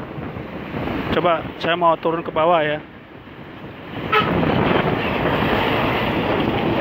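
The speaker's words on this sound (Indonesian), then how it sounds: "Tuh deburan ombak yang lagi tinggi-tingginya tuh seperti itu tuh." High waves crash during a coastal tidal flood on Java's north coast, a broad roaring wash with wind buffeting the microphone, swelling louder in the second half after someone speaks briefly over it.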